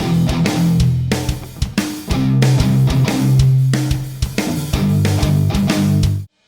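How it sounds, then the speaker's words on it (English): A MIDI drum groove thick with extra cymbals, kick and snare hits, driving at a steady tempo with dense crashing highs over punchy low thumps, loud and continuous until it cuts off. "this pattern is getting filled up by additional cymbals and an additional kick or snare"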